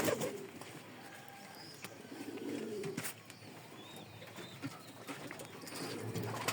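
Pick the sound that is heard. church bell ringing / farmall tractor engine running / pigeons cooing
pigeons cooing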